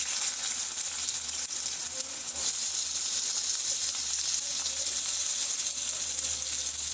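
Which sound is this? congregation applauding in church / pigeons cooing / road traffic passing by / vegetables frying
vegetables frying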